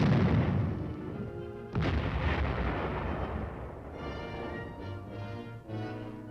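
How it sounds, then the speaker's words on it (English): A 105mm howitzer fires directly in a 1957 army film, with a sharp, loud boom followed by a long rumbling roar and echo that fades away, alone without talk. "105mm howitzer provides support from close range for the armor team."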